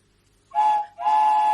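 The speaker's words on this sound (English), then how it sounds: "It's a train. It's my train whistle." A toy train whistle blows twice in quick succession, a short steady tone followed by a slightly longer one, clear and close with no talking over it.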